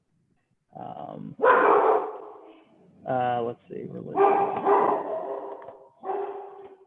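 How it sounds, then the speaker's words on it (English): A pet dog barks and whines intermittently in the background of a home office while a person talks steadily over it. "I apologize if you can hear my dog in the background."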